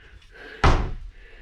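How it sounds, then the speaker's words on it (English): A full-extension ball-bearing drawer in the cabinetry of a tiny house on wheels (Kropf park model) slides and shuts with a solid thunk, then a second sharp knock follows near the end, close and loud. "Full extension ball bearing drawers."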